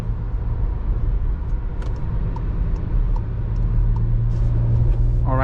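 Steady low cabin rumble and road noise inside a Volkswagen Tiguan 2.0 TDI cruising on a highway, a constant drone with faint ticks, no talk.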